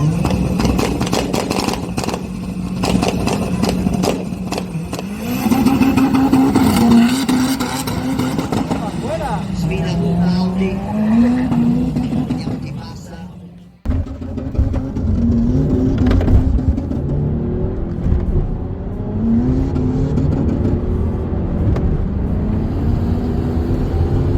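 Stage 2 tuned Audi 3.0 TDI diesel car driving on a track, its engine droning loudly and continuously with rising and falling revs, a brief drop-off midway before the sustained engine roar resumes.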